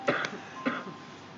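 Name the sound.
cough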